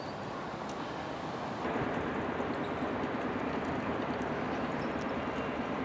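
A small modern train runs between Mogilev and Gomel in Belarus, heard as a steady broadband rumble and rattle from inside the carriage, the noise stepping up slightly partway through and staying constant with no speech.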